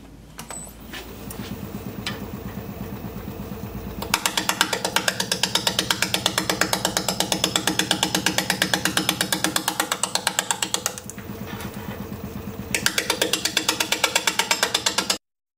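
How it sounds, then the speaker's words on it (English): A wood lathe spins a bowl blank at around 500 RPM while a 5/8 inch bowl gouge cuts it, giving a loud, rapid rhythmic chatter that stops briefly midway, then resumes, over a low motor hum. "I have my 5/8 inch bowl gouge and we'll get to turning."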